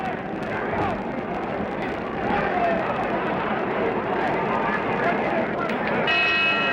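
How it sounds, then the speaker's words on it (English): A boxing bell rings at the end of round one of a 1967 boxing match, a brief bright clang near the end, half-buried under loud crowd roar and commentary. "Bell for the end of round 1."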